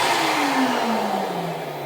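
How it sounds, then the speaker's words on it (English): A screen printing exposure unit runs its vacuum with a steady loud whir whose pitch slowly drops, close by and continuous with no voices. "Well, yeah, it's a vacuum unit."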